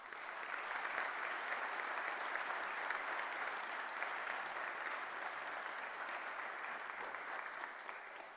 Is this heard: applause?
yes